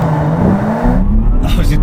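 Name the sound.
Audi S5 and Mercedes-AMG C43 launching in a drag race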